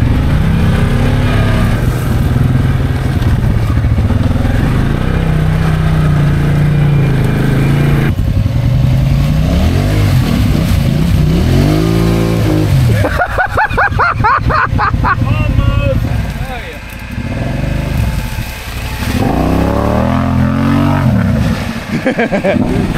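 A Can-Am off-road vehicle's engine drones and revs steadily through swampy ground, loud and close, with pitch rising and falling as the throttle changes over about twenty seconds.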